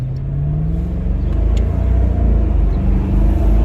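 A Mercedes-Benz SL500 roadster on coilovers drives along with a steady low road rumble and engine drone, and the pitch slowly rises as it accelerates.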